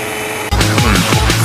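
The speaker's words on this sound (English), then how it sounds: "the blender is ready and let's mix it" An electric blender starts abruptly and whirs while mixing an Oreo milkshake, a loud close motor drone with wavering pitch as the contents churn.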